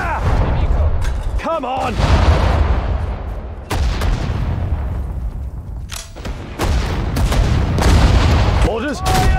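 Gunfire and artillery rumble through a Sudden Strike 4 desert battle at El Alamein in North Africa, heavy booms and bursts of shots hitting in waves while a shouted voice cuts in briefly.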